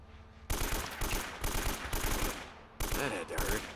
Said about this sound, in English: Four shotgun shots.